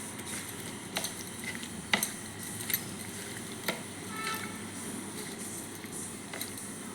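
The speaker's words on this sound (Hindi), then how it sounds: "एबे मु माछ को भल भाबरे ताको गोळेई देली।" Raw washed fish is being mixed with turmeric and salt in a bowl, giving soft wet squelching and stirring with a few sharp clicks of utensils against the bowl, close and fairly quiet.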